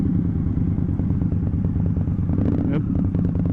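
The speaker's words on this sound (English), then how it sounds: "I can hear another superbike, an Indian I think." Indian motorcycle with an aftermarket exhaust riding close by at night, its engine note rumbling steadily over another bike's drone, with a brief rising rev near the end.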